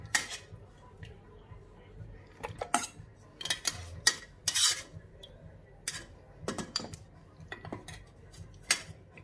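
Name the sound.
utensils separating boiled meat from bones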